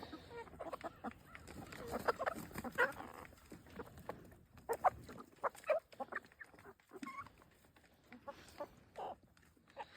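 Chickens cluck and squawk in irregular bursts, some close and sharp, others softer, with quieter gaps between the calls.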